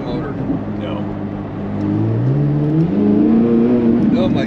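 A Corvette C8 Z06 launching from a standstill, its engine note climbing steadily in pitch as it accelerates, loud and close, with people talking over it.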